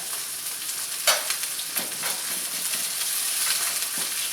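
A spatula scrapes stuck crust around a pan as onions fry for a smash burger, a steady close sizzle broken by a few sharp scraping strokes.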